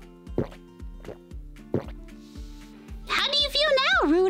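Water poured out as cartoon sound effects: three separate drips or plops spaced evenly, then a brief liquid gurgle as a high, childlike cartoon voice starts talking over it.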